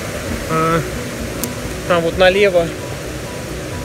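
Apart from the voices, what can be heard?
mountain stream flowing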